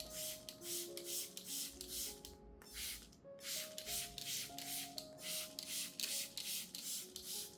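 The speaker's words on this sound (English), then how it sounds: "spray the solution evenly from top to bottom, across the entire leaf surface" Hand spray bottle misting solution over orchid leaves, a steady series of short, evenly spaced hissing bursts close to the microphone with no talk.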